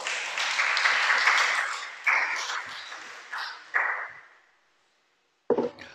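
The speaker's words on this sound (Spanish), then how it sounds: "¿Y si le damos un aplauso al Creador?" A congregation claps in a religious gathering, a strong burst of applause that swells and then thins into scattered claps before fading to silence, followed by a brief sharp noise at the end.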